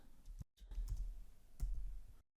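A few quick bursts of keystrokes on a computer keyboard while entering code, separated by brief silent pauses.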